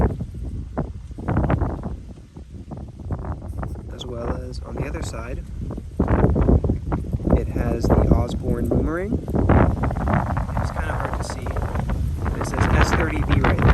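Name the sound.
wind blowing on the microphone outdoors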